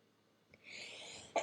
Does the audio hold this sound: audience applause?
no